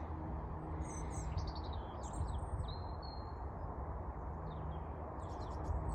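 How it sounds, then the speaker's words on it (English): Small birds chirp and twitter in short bursts over a steady outdoor hum, several calls scattered through the clip. "Listening to the birds"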